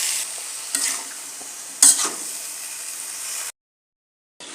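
Vegetables stir-fry with spices in a pan, giving a bright, close sizzle and hiss broken by stirring scrapes. The sound cuts to silence briefly near the end and then returns.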